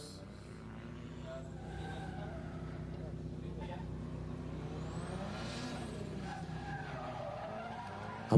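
Engine roar and tire squeal from a drift car sliding sideways at speed in the Borneo Star Drift Series, a sustained rasping drone with squealing swells, heard from a distance.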